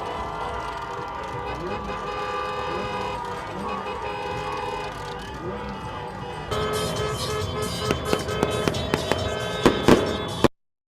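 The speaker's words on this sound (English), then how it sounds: "They out there popping fireworks in front of the police" Fireworks and firecrackers popping in a street during a protest near police, a string of sharp bangs over a steady rumble of traffic, crowd noise and a loud nearby voice.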